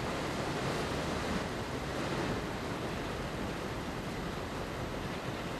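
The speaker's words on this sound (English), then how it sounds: "A ferocious wall of water tore through the valley." A ferocious flood wall of water tears through a valley, a loud continuous roaring rush of churning water that holds steady and dense throughout without pause.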